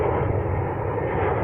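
A jet aircraft near an airport where defense jets scramble in emergencies gives a steady, loud engine roar that holds throughout.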